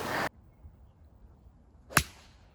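A golfer's 6 iron strikes the ball on the 4th hole of a tough course, one sharp crisp click after a brief burst of outdoor noise, then quiet.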